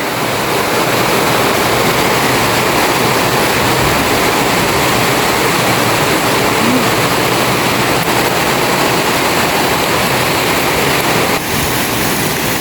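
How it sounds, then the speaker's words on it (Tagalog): Heavy rain pours down steadily with some wind, a dense, loud, unbroken wash of noise filling the whole stretch without any voices. "ito na po yung ulan na malakas, may konting hangin"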